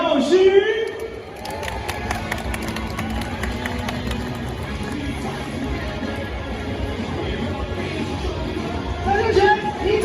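A stadium crowd at a Taiwanese professional baseball game's first-pitch ceremony, a broad wash of cheering and clapping that swells at the start and end, with a public-address voice talking over it.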